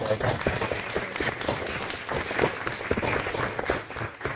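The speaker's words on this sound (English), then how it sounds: "So you guys really deserve a really big round of applause for that." Audience applause at a school board meeting, a steady wash of clapping across the room with people talking over it throughout.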